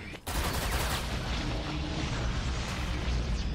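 Rapid bursts of game gunfire crackle continuously at moderate volume, dense and overlapping like an ongoing firefight.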